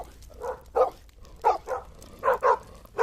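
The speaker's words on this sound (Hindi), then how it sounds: "ठंड में कांपता हुआ एक कुत्ता उसके दरवाजे के बाहर आकर पूंछ हिलाते हुए काव काव करने" A dog shivering in the cold outside a door gives a string of short, sharp barks and yips in uneven bursts, fairly close and loud over a quiet background.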